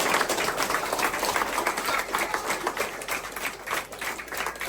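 A crowd of campers at a Nike football camp claps together, a loud uneven burst of hand claps from a nearby group, fluctuating in intensity with no talking heard.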